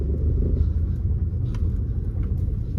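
Modified Maruti Alto engine rumbling while the car drives on the road, a steady, loud low-pitched drone heard close from inside, with no talking.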